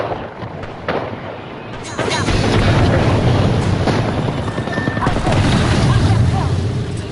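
Gunfire and explosions in an Apex Legends match, a dense, loud barrage of shots and booming impacts that grows heavier after the first couple of seconds and stays sustained.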